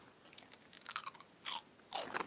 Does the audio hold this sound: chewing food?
yes